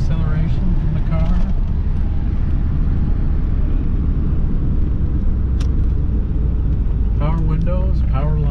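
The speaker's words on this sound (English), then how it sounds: "Acceleration from the car." A 1982 Corvette Collectors Edition accelerates on a test drive with a loud, steady low engine rumble and road noise filling the cabin. Someone speaks briefly at the start and again near the end.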